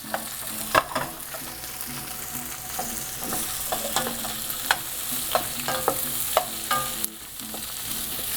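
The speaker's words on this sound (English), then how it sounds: "The first thing I do is I put the vegetables in, stir that up." Vegetables hiss and sizzle in a hot pot on the stove while a spoon scrapes and knocks against the sides, the stirring giving repeated close clanks over a constant frying crackle.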